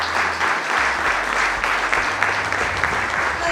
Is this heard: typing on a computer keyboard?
no